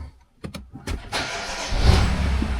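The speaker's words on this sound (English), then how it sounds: "let me turn the car on" A BMW car engine cranks with a few quick starter pulses, then catches and settles into a steady idle rumble, close by and alone.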